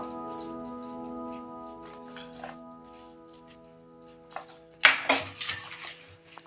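Cauliflower florets are tossed with dry spices in a bowl, first as soft faint handling and then as a few louder clinks and knocks of utensil against the bowl near the end.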